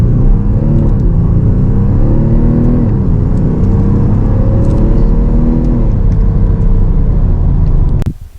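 An Audi S5 Sportback diesel pulls at full throttle from a launch, a loud steady rumbling drone with rising engine tones through gear changes, ending in a sharp thump.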